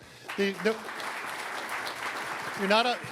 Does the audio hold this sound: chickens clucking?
no